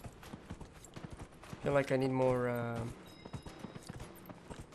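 Horse hooves clip-clopping during a horse race in Dragon Age Inquisition, a quick rhythmic patter through the clip, with someone talking briefly over it.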